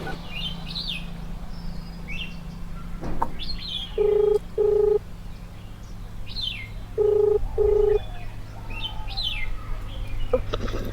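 Four short dialing beeps come in two pairs, two tones apart then two more, over a quiet outdoor background with birds chirping.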